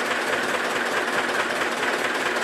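Hydraulic cylinder raising a newly built tipper trailer at low engine revs, heard as a loud, steady, unbroken mechanical whoosh and drone that stays even throughout.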